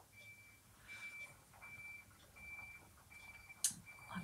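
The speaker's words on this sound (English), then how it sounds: "I can hear a lorry driver coming backwards up my drive now" A reversing lorry backs up a residential driveway, its high beeps repeating steadily in short bursts, faint and distant under quiet indoor room tone with a brief click near the end.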